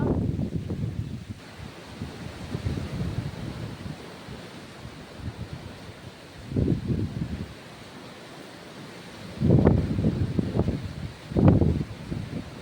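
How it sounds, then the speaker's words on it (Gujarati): Gusty storm wind howls in uneven bursts through coconut trees with rain, swelling loudly near the end, a broad roaring rush with no voices. "જોરદાર વાવાઝોડું છે."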